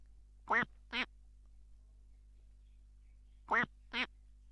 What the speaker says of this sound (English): it's right next spawn and it's quacking. It's literally quacking.